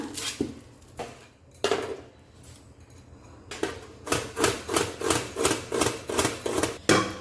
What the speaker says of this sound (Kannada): ಅದನ್ನು ಫೈನ್ಲಿ ಸ್ಲೈಸ್ ಮಾಡ್ಕೊಳ್ಳೋಣ